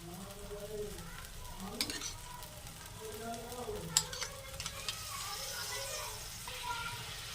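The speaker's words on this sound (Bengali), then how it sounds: "3 চামচ টক দই দিয়ে দিয়েছি। এবার আমি নেড়ে নেব।" A spoon stirs soybean and potato curry in a pan right after beaten yogurt goes in, giving soft scraping and a low sizzle, with a few sharp clinks against the pot and someone talking over it.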